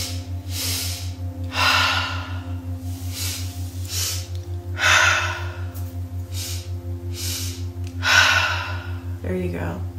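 Deep rhythmic breaths from a guided body-awareness breathing exercise, each inhale and exhale rising and falling roughly every second or two, close to the microphone over a steady low electrical hum.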